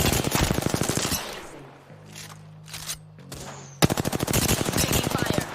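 Video game gunfire rattles in fast automatic bursts, loud and close, pausing for a quiet stretch with a low hum before another sharp burst starts and keeps firing to the end.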